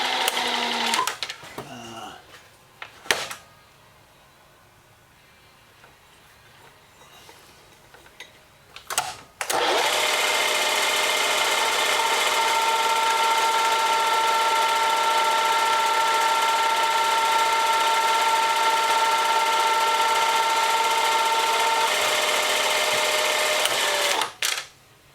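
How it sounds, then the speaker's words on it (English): A milling machine drills a hole in a machined part, running as a steady, loud mechanical whine with a high tone that lasts about fifteen seconds, preceded by brief clunks and handling sounds. "all we're going to basically do is put a hole in here, and then we're going to switch over to in-mill mode."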